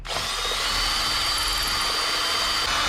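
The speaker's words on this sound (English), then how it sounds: "we'll drill a hole" A power drill whines continuously at high speed, steady and close, boring a hole through a Yamaha XS650 motorcycle seat pan without pause.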